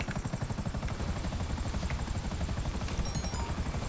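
A helicopter in GTA 5 Online flies close by with a loud, steady, rapid rotor chop and a whining engine that carry unbroken throughout.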